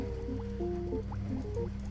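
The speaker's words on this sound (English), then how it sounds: "It's bubbling." Bubbling in the video game Journey of a Roach, a continuous gurgling liquid sound with bubbly pops over a steady tone, moderately loud and heard alone.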